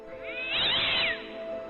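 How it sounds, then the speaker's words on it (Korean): A pet cat lets out a single sharp, fierce yowl, close and loud, rising and bending in pitch for about a second before fading out, with no voices around it. "아주 날카롭고 사나운 고양이 울음소리가 들렸어요"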